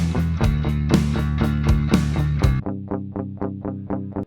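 A clean DI electric guitar signal is played back. Dense strummed chords give way to a sparse run of bright, evenly spaced plucked notes, dry and unprocessed, with no talking.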